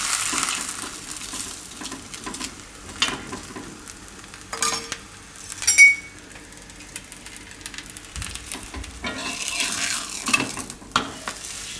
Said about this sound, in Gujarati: બે બાજુ શેકી લે હું, મીડિયમ ગેસ રાખીને